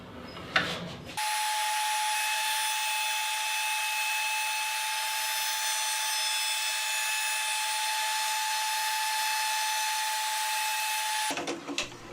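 A band saw cuts thin wood strips for guitar linings in a workshop, a steady loud whining rip with a high constant tone, starting abruptly and running unbroken for about ten seconds before stopping.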